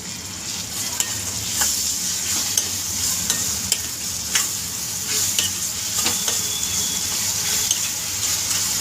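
Ginger-garlic paste sizzles steadily in a hot pan while cooking greens with minced mutton, with a constant loud frying hiss and occasional stirring clicks and scrapes, no voices.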